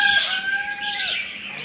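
A freshly caught Lao rooster with a large comb gives one long, loud crow close to the recorder, a drawn-out tonal call that tapers off, with no talk over it.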